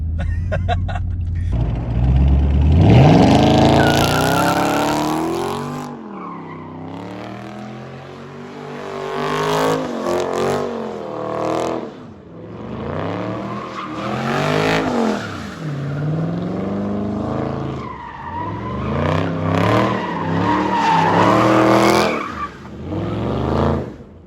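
A widebody Dodge Charger Scat Pack slides with long tire squeals that rise and fall over engine revving, loud and close, repeated across several drifting passes.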